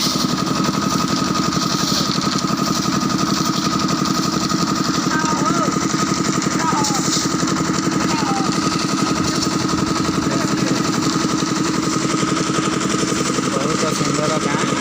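A motor, apparently powering a village water pump, runs with a steady, droning hum throughout, with voices present in the background.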